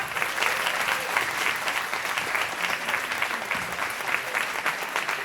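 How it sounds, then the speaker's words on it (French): A French audience at a parade event applauds steadily to thank an organizing team, a dense, even wash of clapping from many hands held at a constant level throughout. "Je souhaite qu'avec l'ensemble de l'assistance, on vous applaudisse pour vous remercier."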